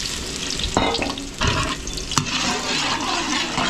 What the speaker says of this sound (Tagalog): So gigisa lang natin sa bawang sibuyas to.